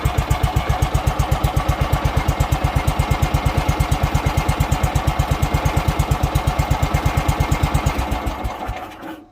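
A John Deere 160 lawn tractor engine runs with a steady, rapid pulsing throb at close range, holding an even idle for several seconds before winding down and cutting off at the end.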